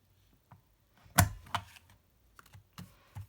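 A gift bag punch board's corner punch rounds off paper gift bag corners, giving a few crisp, close clunks and clicks spaced irregularly over a few seconds with quiet gaps between.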